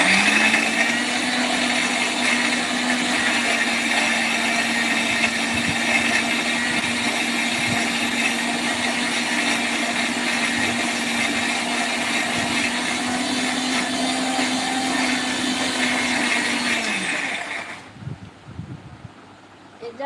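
Electric blender, a Hainik brand machine, grinding spices for a roast and pulao, with a loud steady motor whine held for about seventeen seconds before it winds down and stops.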